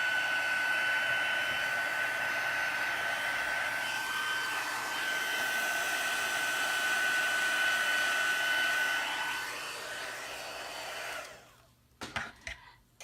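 Heat tool blowing steadily over watercolor-painted stamping paper, a loud continuous whirring airflow with a thin whine that runs for about nine seconds, then cuts off, followed by a few soft handling clicks.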